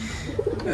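Line pigeons coo in a loft: a couple of short, soft, low throaty coos, close by and clear over faint background noise.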